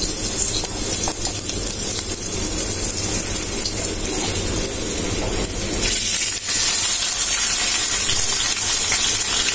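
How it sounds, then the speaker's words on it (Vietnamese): Fish frying in a small pan with slices of ginger, a loud constant hiss and sizzle that swells slightly louder in the final seconds. "Bây giờ mình sẽ đi rán cá nha."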